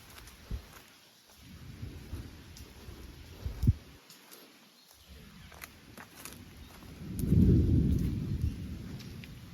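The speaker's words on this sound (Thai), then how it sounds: "โหฝนเริ่มตกแล้ว" Thunder rumbles in a heavy, rolling surge at the start of a rainstorm, with low booms that swell and fade and a loud rumble near the end over a faint background of falling rain; no one speaks.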